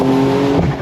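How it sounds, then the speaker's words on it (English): A Porsche 911 Carrera S (992.1) launching hard from a standstill under launch control, with the top down; a loud, close, steady engine roar with a tonal drone that breaks and shifts near the end of the brief burst. "We're going to do some launch control, left foot on the brake, right foot on throttle"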